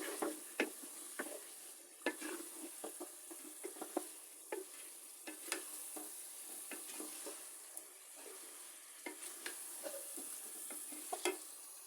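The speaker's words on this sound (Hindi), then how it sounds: "अब मैं इसमें डालूंगी फ्राई किया हुआ चिकन। और चिकन की भी बुनाई करनी है।" Fried chicken sautéed in a pan, with frequent clattering stirs and scrapes of a spoon against the metal over a quiet, steady sizzle, close and fairly soft.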